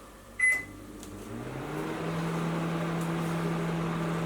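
A Panasonic NN-ST45KW microwave oven starts with a short beep and click, then settles into a steady low electrical hum with a fan whir that holds evenly to the end.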